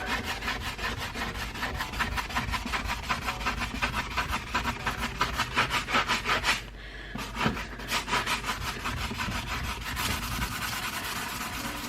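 Someone scrubs hard at a surface sprayed with Koh cleaner, fast rhythmic back-and-forth rubbing strokes, loud and close, pausing briefly partway before resuming at a steady pace.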